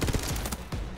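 Enemy gunfire in Borderlands 3 rattles in a fast, fairly quiet string of repeated shots over ongoing game sounds.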